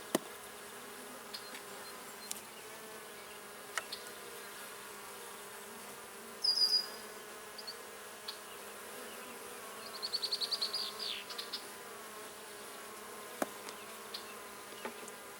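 Honey bees buzz around an open hive during an inspection, a faint steady drone with a few louder passes as single bees fly close, alongside occasional soft clicks.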